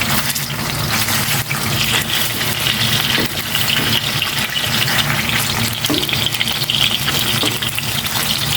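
Food fries in cooking oil in a dense, loud, continuous sizzle with a low rumbling undertone, close by and unbroken throughout.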